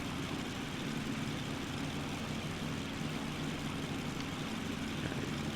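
Twin-engine Cessna 310L piston propeller drone in X-Plane 11, a steady, loud, continuous engine hum with low harmonic tones, running alone without any talk.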